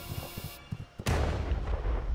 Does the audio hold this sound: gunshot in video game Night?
yes